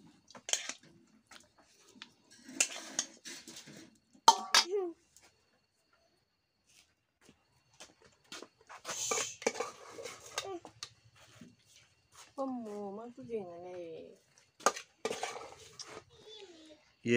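Chicken skin bharta is mixed in a dish with scattered clinks and scrapes of a spoon against the metal, broken by quiet pauses, while a child and an adult talk now and then.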